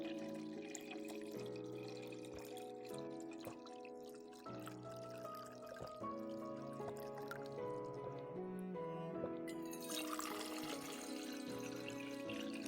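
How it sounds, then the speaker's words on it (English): Faint trickling and dripping of water being drunk in the video game Scarlet Nexus, soft and steady beneath a louder layer of game music. "I don't know what's worse, drinking the water or hearing that freaking sound"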